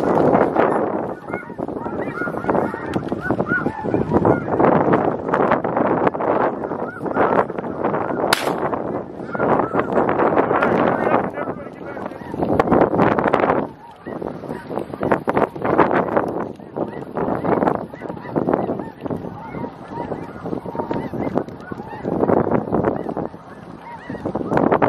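Snow geese honk continuously and loudly from a large flock settling in a Nebraska pasture during snow goose season, a dense overlapping chorus with wind buffeting the microphone throughout.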